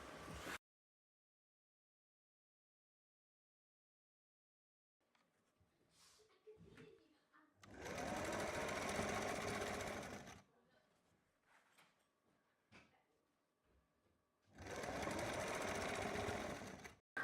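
An electric sewing machine stitches an umbrella-cut sleeve in two loud, steady bursts of a few seconds each. Quieter handling noises of fabric and the machine fill the pauses between the runs.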